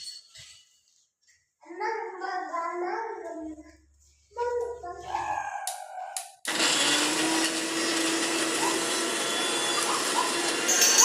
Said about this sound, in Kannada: ಒಂದು ಜಾರ್ ತೊಗೊಂಡೇನಿ, ಜಾರಿಗೆ ಮಿಕ್ಸಿ ಮಾಡ್ಕೊಂಬರೋಣ